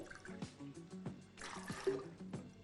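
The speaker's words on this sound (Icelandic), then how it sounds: "Við byrjum á því að setja í þetta 3 desilítra vatni" Three decilitres of water poured into a container as the base of a hemp seed protein shake, a soft trickling and splashing with a few sharp knocks, close and fairly quiet, with no talking.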